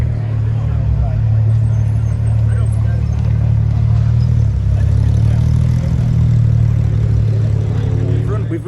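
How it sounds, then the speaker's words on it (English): A paint-to-sample Porsche GT3 Touring drives down the road at an all-Porsche cars and coffee gathering. A steady, loud, low engine drone carries throughout, with voices nearby. "coming down the road here, a paint to sample GT3 Touring."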